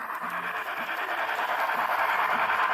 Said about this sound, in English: You hear the locomotive.